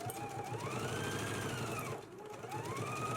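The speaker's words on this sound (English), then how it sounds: "I'm going to go ahead and baste these raw edges together now." Sewing machine basting the raw edges of a shirt collar together, a steady continuous motor hum with a whine rising and falling in pitch as speed changes, a brief dip near the middle.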